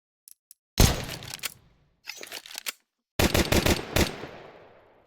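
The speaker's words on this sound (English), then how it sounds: "P250 is a very budget pistol that I don't really use" P250 budget pistol firing in Counter-Strike 2, close and loud in three separate bursts of rapid shots with short silent gaps, the last burst ringing out into a fading tail.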